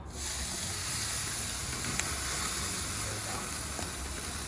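Spring chicken searing on a hot grill, a steady loud hiss and sizzle held evenly throughout with faint crackles on top.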